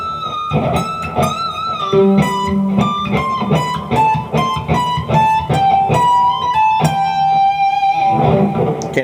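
Distorted electric guitar plays the solo from a rock song, with quick hammer-ons and high bent notes in a steady, loud run of lead lines and no talking over it.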